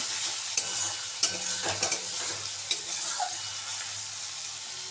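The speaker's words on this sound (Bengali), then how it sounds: "হলুদ গুঁড়ো দিয়ে আবারও ভালো করে আমি ভেজে নেব" Ginger garlic paste with turmeric powder frying in a pan while being stirred, with a soft steady sizzle and a few sharp scrape clicks from the spoon, close and moderately quiet.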